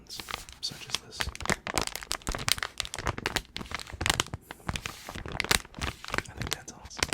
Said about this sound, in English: I'm also a big lover of crinkling sounds, such as this.